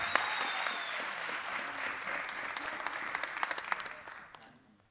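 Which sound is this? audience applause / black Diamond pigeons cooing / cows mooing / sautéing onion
audience applause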